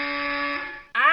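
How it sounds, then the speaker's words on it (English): Facility alarm blaring a steady, loud electronic tone with layered harmonics, cutting out briefly before restarting with a rising, wavering whoop. "And that was the alarm."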